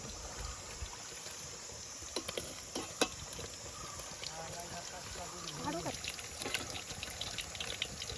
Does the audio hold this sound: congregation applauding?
no